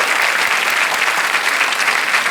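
Studio audience applause on a televised quiz show, a dense, loud, continuous wash of many hands clapping steadily throughout, with no voices over it.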